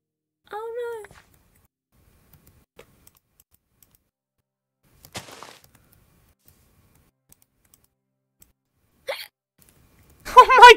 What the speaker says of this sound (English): was that a hiccup?